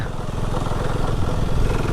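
A motorcycle engine rumbles steadily while riding, a close, loud, throbbing low drone that holds the same pace throughout.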